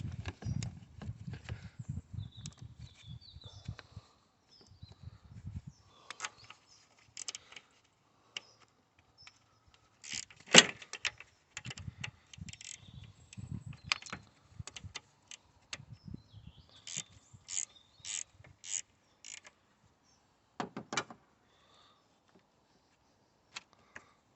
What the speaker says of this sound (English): Now we need a spanner on this. 10mm again.